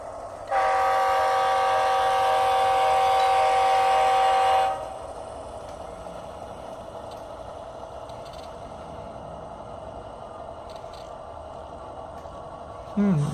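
Athearn Genesis HO scale GE AC44CW model locomotive in Chicago and Northwestern livery sounds a loud sustained horn for about four seconds, then its motor and sound unit hum on quietly, with a brief horn burst at the end.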